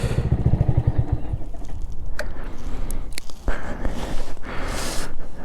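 A Honda Grom motorcycle engine with an aftermarket racing exhaust idles with a fast low putter for about a second, then cuts out, leaving clicks, rustling and faint background noise.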